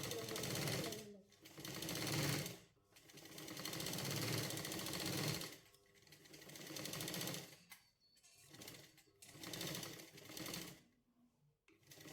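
Sewing machine running in bursts while stitching a sleeve join, steady close whirring broken by short pauses between seams, with no talk over it.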